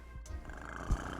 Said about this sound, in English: Oh, no, this is quite literally a cat.